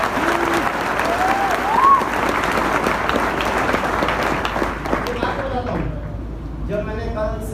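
A large audience claps steadily through a speech on entrepreneurship, broad dense applause that thins and fades near the end as a speaker's voice returns.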